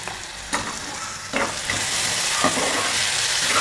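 Onions sautéing in a pan for egg curry produce a loud, close, hissing sizzle that swells when they are stirred, with a couple of brief scrapes as the spoon moves them.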